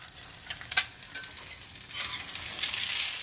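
An egg omelet fries in a hot pan, giving a steady, soft sizzle with a few crackles that swells slightly toward the end, with no talking.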